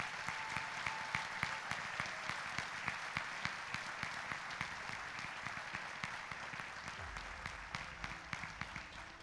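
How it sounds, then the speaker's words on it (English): At Edinburg's 2025 State of the City event, a large audience applauds the city council with sustained, even clapping heard from a distance, with individual claps standing out. "Let's give them a round of applause, our Edinburgh City Council"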